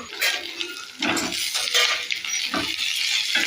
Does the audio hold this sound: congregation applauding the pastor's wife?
no